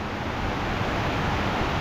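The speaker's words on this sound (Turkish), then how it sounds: "Şiddetli rüzgar." Continuous broadband roar of strong wind buffeting, dense and steady throughout with no pauses, fairly loud and close.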